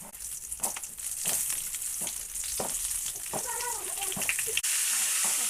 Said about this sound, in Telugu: పూర్ణం మసాలా పెట్టుకున్న వంకాయ వేసుకోవాలి